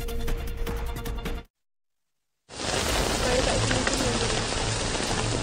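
Heavy, steady downpour during a monsoon landslide disaster, a dense continuous hiss, broken by a full second of silence before resuming just as loud.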